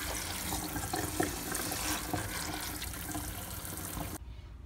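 Potatoes, onions and carrots are rinsed under a kitchen tap. The running water makes a steady close splashing stream that stops abruptly just before the end.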